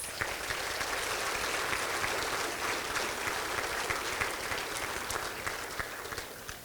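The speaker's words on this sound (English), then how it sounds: "Let's give them a big round of applause" Round of applause from guests at a bank stockholder dinner, sustained crowd clapping that holds steady for several seconds and then tapers off slightly, heard from a moderate distance.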